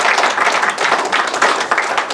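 Audience applause for a science event's AV crew at a 2012 green and sustainable energy housing forum, a dense steady patter of many hands clapping throughout, fairly loud and close, with no talk over it.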